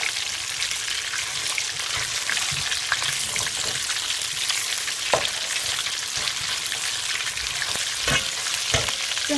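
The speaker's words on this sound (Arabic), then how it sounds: "هنا عندي يتحمس اللحم زين مثل ما تشوفون" Meat browning with onions in a pan for an Iraqi dried white bean stew, a loud, steady frying sizzle throughout with occasional sharp stirring clicks and scrapes close by.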